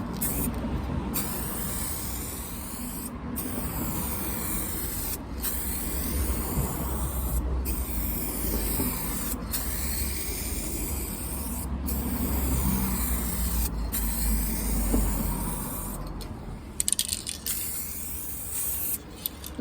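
Lacquer hisses from a spray can onto the rust-repaired boot of a Mercedes SLK R170, a steady close spray broken by several brief pauses between passes.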